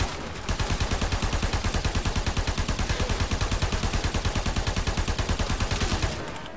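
Braton Prime assault rifle in Warframe firing one steady, rapid automatic stream for about five and a half seconds, each shot crisp and even, loud and close with no talk over it.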